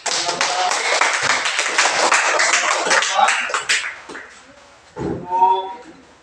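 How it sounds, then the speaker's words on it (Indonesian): A classroom group claps for its first group: brisk, dense clapping close by for about four seconds that thins out and ends with some scattered taps and a short voice. "Tepuk tangan untuk kelompok satu"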